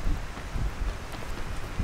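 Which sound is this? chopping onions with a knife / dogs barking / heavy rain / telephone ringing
heavy rain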